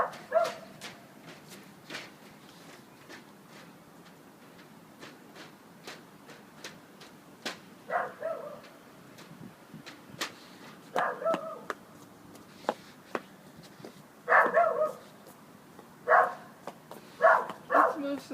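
A worried pet dog gives intermittent short barks and whimpering yelps at moderate distance. Faint ticking clicks run underneath, and quiet voices can be heard.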